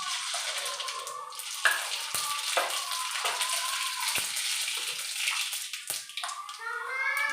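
Cumin and mustard seeds go into a pan of hot oil for a kurdai bhaji, giving a close, continuous sizzle with crackles and small pops scattered throughout.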